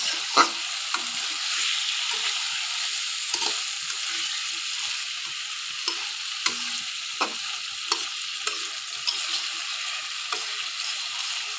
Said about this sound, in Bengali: মাছটা আমার কষানো শেষ।